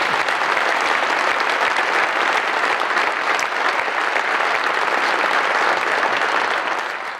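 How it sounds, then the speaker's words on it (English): Audience applause at a ribbon-cutting ceremony at the Palladium performing arts centre: dense, steady clapping from a large crowd fills the whole stretch and fades slightly at the end. No voices stand out. "you can applaud"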